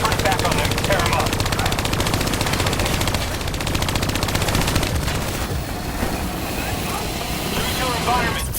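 Sustained automatic turret gunfire in the Call of Duty: Black Ops 3 campaign mission New World, loud, dense and continuous bursts with battle noise, easing slightly toward the end.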